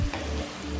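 Onions sizzle steadily in a hot pan as they are stirred, giving a short, continuous frying hiss close by.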